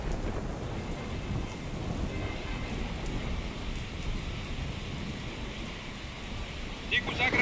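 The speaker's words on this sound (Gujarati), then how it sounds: "કયા કયા વિસ્તારમાં વરસાદ વરસી રહ્યો છે" Heavy rain pours down in Ahmedabad in a dense, steady hiss with patters on surfaces, close and continuous, swelling slightly near the end.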